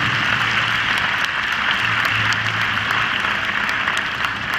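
Sustained dense applause from a large crowd at an international show jumping event in Bordeaux, loud and steady throughout with no pause, honouring Irish rider Richard Hawley's winning round.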